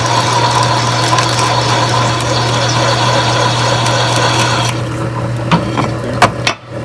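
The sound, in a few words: step drill bit enlarging a hole in a car frame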